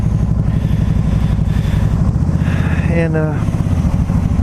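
A 2010 Can-Am Spyder RT three-wheeler cruises on a freeway, its engine droning loudly and steadily with wind rush and a brief rise in pitch, under someone talking.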